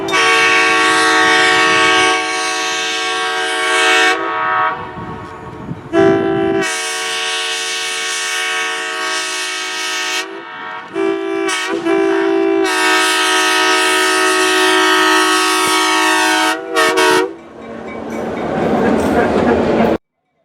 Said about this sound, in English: the power set slowly rolls over the practically abandoned tracks toward the depot